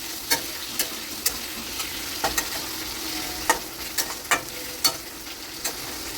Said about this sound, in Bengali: ভাজা হয়ে গেছে, এবার ক্যাপসিকামগুলো দিয়ে ভেজে নিয়ে সসগুলো এবার অ্যাড করবো।